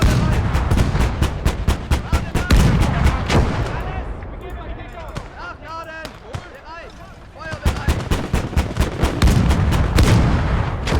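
Artillery fire in the war game Kampfgruppe, loud booming shots in rapid succession with a brief lull midway before the barrage resumes, alone without talk.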